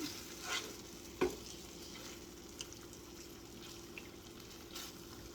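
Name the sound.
chicken teriyaki searing in a pan, being stirred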